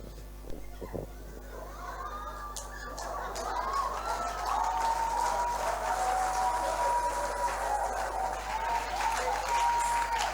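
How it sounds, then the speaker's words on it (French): Church congregation applauding during a worship service, the clapping building after a few seconds into sustained, moderately loud applause mixed with some voices and a faint held tone. "voyez ce matin les dirigeants acclamons le Seigneur, tu acclames comme ça"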